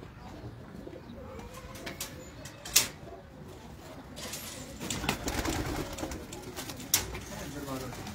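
Breeder and high-flyer pigeons in a loft coo softly nearby, with a few sharp flutters or knocks. Faint background noise runs under the calls.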